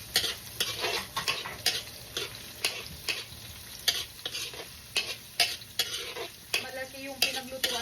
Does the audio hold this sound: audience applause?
no